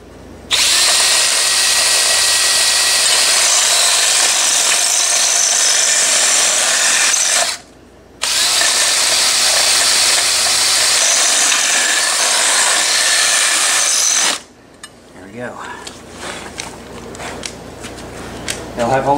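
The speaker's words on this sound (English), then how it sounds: "Let's drill some holes." A power drill bores holes during a torque converter install on a Baja Warrior minibike, running loud and steady in two long bursts with a brief pause between, then cutting off into quieter shop noise.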